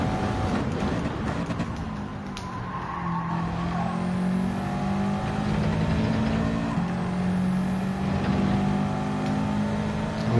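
Subaru WRX racing in Gran Turismo 7, engine droning at high speed with rising and falling revs and faint tire squeal, steady and continuous.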